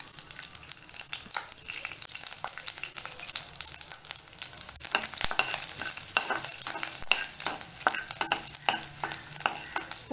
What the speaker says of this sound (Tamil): ஜீரகம் பொரிஞ்ச உடனே பூண்டு ஒரு 5-6 பல் பூண்டு சேர்க்குறேன்.